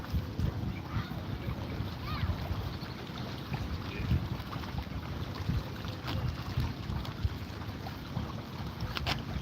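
Steady wind blows outdoors with constant rumbling buffeting across the microphone, moderately loud and unbroken, with no talking heard.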